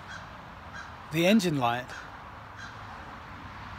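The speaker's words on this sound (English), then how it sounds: "Got some crows." Crows caw briefly a few times, fairly near, over steady outdoor background noise while someone talks.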